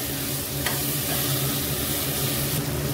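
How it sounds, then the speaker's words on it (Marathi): A steady, hissing sizzle of chopped vegetables, including capsicum, frying in hot tempering oil for vegetable rice, continuous and close, with faint stirring and no voices. "सगळे व्हेजिटेबल्स ऍड करायचे, शिमला मिर्च आणि मस्त भाजून घ्यायचे"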